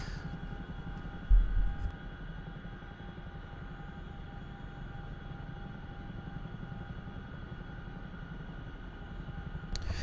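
A CH-47F Chinook helicopter in the game DCS spools its rotors up to full speed, producing a steady, loud rumbling drone with a constant whine, a brief thump near the start and no voices.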